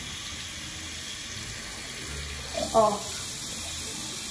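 Water runs from a tap into a bottle as a steady soft stream, with a brief louder gush near the end and someone speaking quietly over it.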